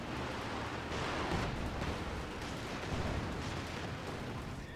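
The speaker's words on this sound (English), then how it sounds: "Grenade is thrown." Grenade blast in Company of Heroes 2 during a 4v4 battle on the Vielsalm map, heard as dense, continuous booming and rumbling explosions with a steady roar of gunfire and artillery, loud throughout with no distinct single burst.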